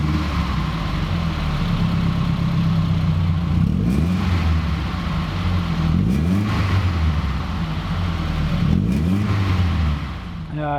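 A four-cylinder Mercedes-Benz 190E Cosworth engine revs up and down several times, rising and falling in pitch with a raspy exhaust note, loud and close.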